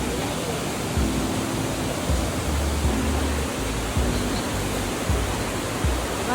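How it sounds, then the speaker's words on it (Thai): Rushing water from a waterfall in Chanthaburi, Thailand, roars as a loud, continuous broadband wash with no pauses, steady and close throughout. "มาถึงแล้วน้ำตก"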